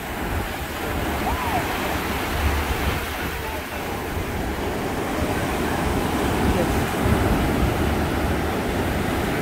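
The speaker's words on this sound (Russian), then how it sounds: "Такие волны, Катя где-то купается." Sea waves wash onto a beach in a continuous rushing surf, mixed with wind buffeting the microphone. The sound is loud and close throughout, with gentle swells in level and no clear talk.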